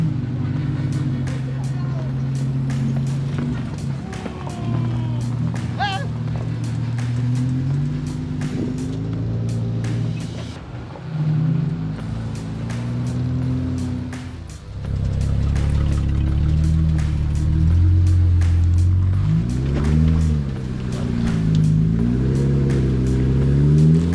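A Jeep driving an off-road trail on Easter Jeep Safari, its engine droning and rising and falling in pitch as it revs and crawls, close and steady, with people talking over it at times.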